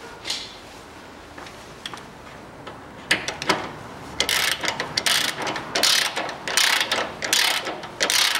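Ratchet wrench tightening the upper bolt of a rear shock absorber bushing on a Land Rover Defender, a quiet start building into loud, rapid bursts of ratcheting clicks in quick repeated strokes.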